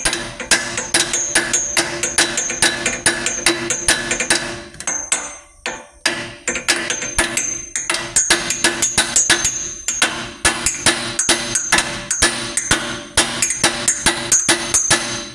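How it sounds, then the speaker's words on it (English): Repeated metal-on-metal hammer strikes ring out in a steady, fast rhythm, loud and close, knocking out a Ford Super Duty steering damper, with a brief pause midway before the pounding resumes. "now we're about to hammer that out"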